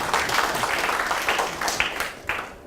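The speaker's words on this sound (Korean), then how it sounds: "박수 한번 부탁드리겠습니다." A lecture audience applauds at a talk on smart cities, a dense patter of many hands clapping together, moderately loud and sustained for a few seconds.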